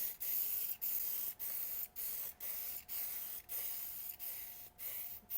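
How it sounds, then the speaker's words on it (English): A Preval paint sprayer hisses in a run of short, even bursts, about ten of them at a steady rhythm, each cut off by a brief gap, heard up close with no talking. "So we're going to test this one out and see how we're spraying."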